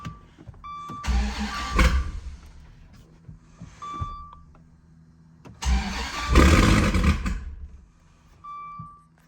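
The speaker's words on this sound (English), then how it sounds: "Come on, dead battery." A car with a dead battery is cranked twice, each try a sluggish churning starter sound lasting a second or two that never catches. Faint electronic chimes sound between the attempts.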